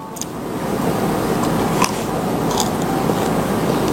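A crunchy cheese kastengel cookie is bitten into, giving a few sharp, crisp crunches close to the mic over a steady background hiss.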